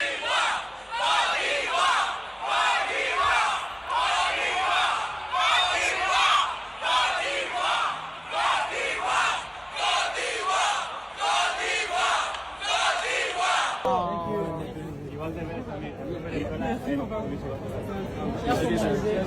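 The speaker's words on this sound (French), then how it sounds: "toute la foule a commencé à acclamer Olivia Yassé" A large crowd at the Miss Universe pageant roars and cheers for Olivia Yacé of Côte d'Ivoire in loud, surging waves, then the noise falls off as nearby voices start talking.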